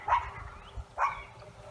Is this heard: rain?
no